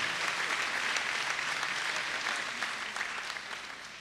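A congregation claps steadily in a chapel during a feast-day Mass for Saint Clare, with dense, sustained applause that fades slightly toward the end.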